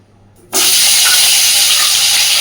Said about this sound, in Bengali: এইবার ওই তেলের মধ্যেই আমি কেটে রাখা আলু আর ফুলকপিগুলোকে সুন্দর করে ভেজে নেব।